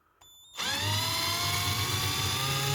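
An electric drill, used to polish a Dinky Toys Saab 96 diecast part, whirs up from near silence and keeps running at a steady high-pitched whine, loud and close, with no talking.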